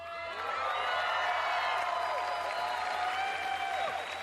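Crowd at the E3 2019 Bethesda press conference clapping and cheering, dense applause with whoops, heard from a distance beneath a presenter's speech.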